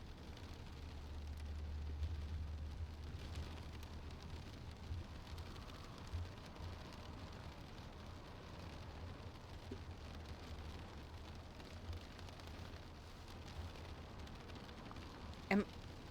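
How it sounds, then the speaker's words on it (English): Steady rain from the Stanley Parable video game, a soft, even hiss with a low rumble beneath and a faint sharp tick near the end. "Why does it sound like rain?"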